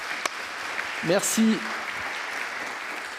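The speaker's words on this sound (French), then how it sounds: "Je pense qu'on peut applaudir Stéphane" An audience applauds a presenter after a marketing talk, a soft, even wash of clapping running throughout while a voice speaks briefly over it.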